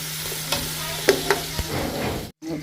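Potatoes frying in a pan, a steady close sizzle broken by a few sharp scraping clicks as they are stirred, ending with a brief cut to silence.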